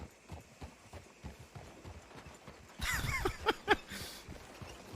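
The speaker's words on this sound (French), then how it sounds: "Nelson, je suis en train de monter sur le cheval, attends, je m'accroche là!" Video game horse hooves clip-clop in a quick rhythmic run over a steady low background, louder and sharper during the last two seconds.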